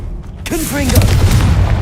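A Confringo explosive spell goes off in Hogwarts Legacy, a loud booming blast that swells and rolls on under a voice shouting in the game, with crackling debris trailing behind.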